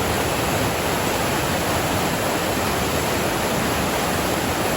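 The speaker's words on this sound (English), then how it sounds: "As you can see, Mosquito Creek is moving." Mosquito Creek in Banff's backcountry in early to mid-July, a steady loud rush of moving water heard close by, continuous and unbroken with no talking.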